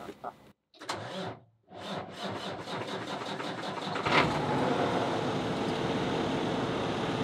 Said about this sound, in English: So we can go ahead and start the engine.